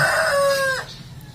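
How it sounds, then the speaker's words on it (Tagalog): A rooster crows once, close and loud, a drawn-out call that trails off into quiet outdoor background. "May manok ako dito"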